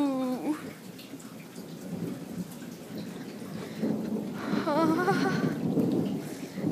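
Thunder rumbles through a thunderstorm, a low rolling boom that swells and lingers alongside steady rain, with whistling tones and voices briefly heard.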